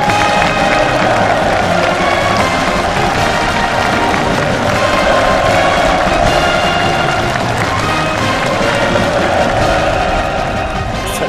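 A large crowd cheers and claps at a street completion ceremony in North Korea, a loud, continuous roar of voices and applause with no pauses; no fireworks stand out.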